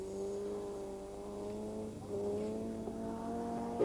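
A rally car on the 1995 Barbórka Warsaw Rally stadium special stage at Stadion Gwardii, with a steady strong engine note that lifts as the driver opens the throttle, continuous and fairly loud with no talk.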